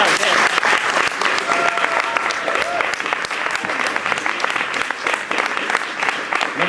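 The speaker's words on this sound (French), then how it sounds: "j'aimerais s'il vous plaît que vous fassiez le tonnerre d'applaudissements à Georges" A French slam poetry audience gives a loud, sustained thunder of applause as Georges Outté is welcomed onto the stage, dense clapping filling the room from start to finish, with some crowd voices mixed in.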